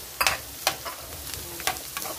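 Carrots with a little onion frying in a pan, a low steady sizzle broken by several sharp stirring scrapes and clinks at irregular intervals, close and moderately quiet.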